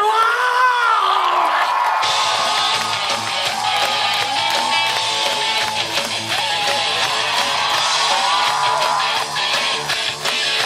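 Large crowd cheering, whooping and shouting continuously at a lively rock concert at a mountain school, loud and sustained from the start, with instruments and amplified sound rising beneath the roar.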